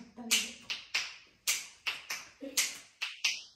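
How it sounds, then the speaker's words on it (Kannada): Repeated finger snaps with a ringing echo in a resonant space during a fun day out in Bangalore, about nine sharp, close clicks at a fairly even pace, each trailing into a short reverberant tail. "ನಿಮಗೆ ರೀಸೌಂಡ್ ಹೊಡಿತರ ಕೇಳಿಸ್ತಿದೆ ನಾ ಚಿಟಿಕೆ?"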